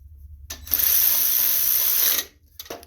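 A ratchet tightens the muffler on the carburetor of a JCPenney front-tine tiller, one close, continuous run of rapid clicking lasting under two seconds, then a short rattle.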